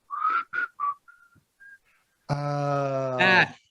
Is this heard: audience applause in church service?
no